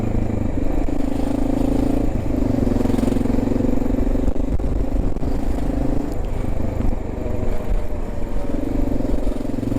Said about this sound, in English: I'd like to know from commenters if this bike is too quiet